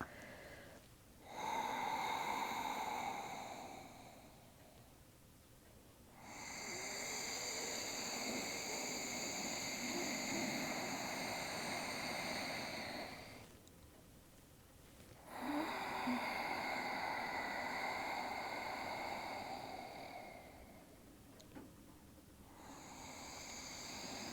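Slow conscious breathing, long audible inhales and exhales alternating with brief pauses, close and breathy, without speech.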